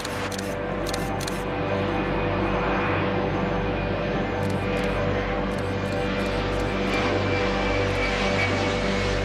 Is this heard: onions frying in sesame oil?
no